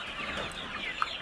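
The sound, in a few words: chickens clucking inside a raised floor chicken house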